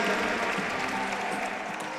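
A crowd at a lead climbing championship final applauds in a steady, dense wash of clapping that stays loud and even throughout, with a faint voice underneath.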